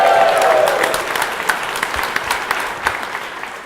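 Conference audience clapping in a theater at the opening of a DevOpsDays event in Kansas City, a burst of applause that fades into scattered individual claps, with a voice briefly at the start.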